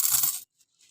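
Saudi Arabian coins drop and clink in a quick metallic jingle that cuts off, followed by a couple of faint light taps.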